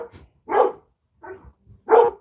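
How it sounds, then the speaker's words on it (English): Dogs bark in short separate bursts, two louder barks and a few softer ones, near and fairly loud with quiet gaps between them. "There's the dogs."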